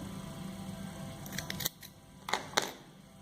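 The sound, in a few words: scissors cutting the crochet yarn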